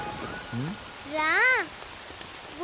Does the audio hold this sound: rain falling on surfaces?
yes